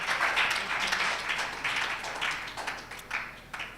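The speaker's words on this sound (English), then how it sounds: "Please, can you clap for Mrs. Kaiser?" A church congregation at a Mother's Day service applauds, dense scattered clapping from many hands that gradually thins out over a few seconds.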